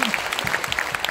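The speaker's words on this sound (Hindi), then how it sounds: "तो इसलिए सबसे बड़ा ताली उसको दे दीजिए" A live audience at a Bengali weight-loss success-story event breaks into sustained applause, with dense, close clapping filling the whole moment.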